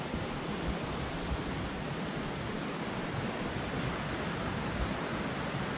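A creek along a trail in Sequoia National Park, heard as a continuous, even rush of flowing water, steady and unbroken with no voices.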